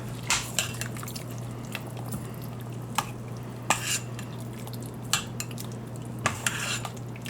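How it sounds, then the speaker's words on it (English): Chili is stirred in an Instant Pot, with sharp spoon clinks and scrapes against the metal pot recurring every second or so over a constant low hum. "Stir it up."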